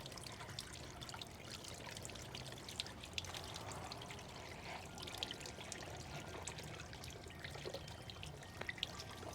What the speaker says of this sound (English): You want this to come out at a trickle.